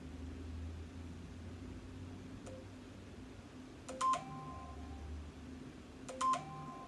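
Mobile phone tones cut through a quiet breathwork and sound healing session: a faint click, then two short bursts of beeping electronic notes, each followed by a trailing tone over a low hum.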